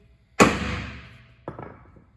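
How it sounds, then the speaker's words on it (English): A hammer taps an excavator bucket tooth onto its adapter lock during WearWolf segment installation: one sharp, close metallic strike ringing out briefly, then a second softer tap about a second later. "We'll give the tooth a tap to make sure it's correctly mated."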